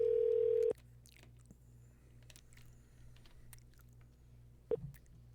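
A phone line tone for an incoming podcast call, one steady electronic tone that stops abruptly after under a second and is followed by faint handling noises and a brief blip.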